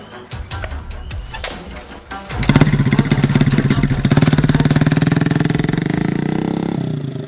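A motorcycle engine clatters and starts, then runs loud and steady close by, a throbbing rumble that slowly eases near the end.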